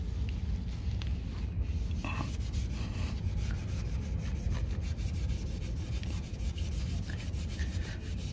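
An Acura MDX is rubbed by hand during a wash, giving steady close scrubbing and rubbing strokes with faint squeaks over a low, constant background.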